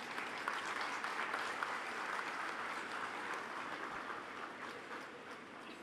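Audience applause at a university convocation ceremony, a steady, dense wash of many hands clapping throughout, moderately loud and sustained without pause.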